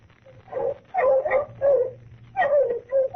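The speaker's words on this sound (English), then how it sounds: "I am going to get some bloodhounds." Bloodhounds in a 1941 radio drama bark, yip and whimper in close, uneven bursts, several short anxious cries following one another against a low background hum.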